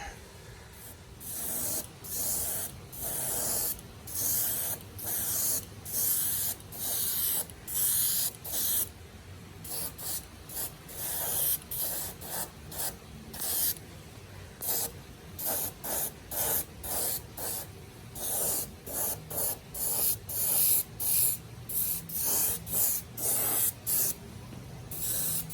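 A spray can paints the first coat on the body of an RC Winnebago RV, with short repeated hissing bursts in an even rhythm and quiet pauses between them.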